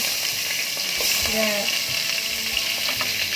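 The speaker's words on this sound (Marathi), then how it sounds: "सासम पटपट येताना करबेव घालया" Curry leaves hit hot spluttering mustard seeds for Konkani kadgi chakko, and the oil answers with a loud, dense sizzle that keeps up throughout, broken by small crackles and pops, with no talk.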